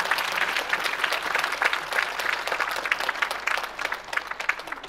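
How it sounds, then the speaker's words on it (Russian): An audience in a concert hall at Vegas City Hall applauds with sustained, dense clapping that holds steady for the whole stretch, close and full. "Аплодируйте Андрею"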